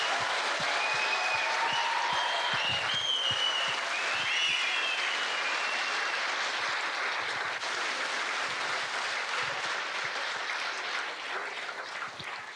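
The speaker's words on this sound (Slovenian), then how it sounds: "si zaslužijo še en velik aplavz" Audience applause fills a hall after a graduation dance at a school prom in Trbovlje, loud and sustained throughout, with occasional whistles and cheers over the clapping, thinning slightly near the end.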